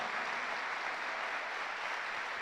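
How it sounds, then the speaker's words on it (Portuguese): Church congregation applauding during a sermon, an even, steady roll of many hands clapping at moderate loudness, with no speech over it. "Vamos aplaudir ao Senhor."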